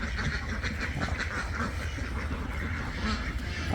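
Many ducks quack continuously in a noisy confined duck farm flock, a dense overlapping chorus close by without pause.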